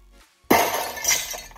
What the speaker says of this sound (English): Here is a demo of detecting glass break using a battery powered device.